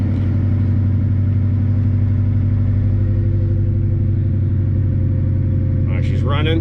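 A Honda Integra engine runs steadily at idle after starting, its low rumble loud and even throughout, with a brief voice near the end.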